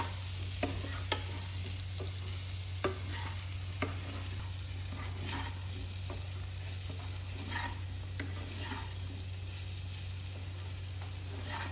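Amla and green chilli pickle is stirred in a pan over a low, steady hum and a gentle sizzle. The spoon makes scattered scrapes and light clicks at an unhurried pace, and there is no speech.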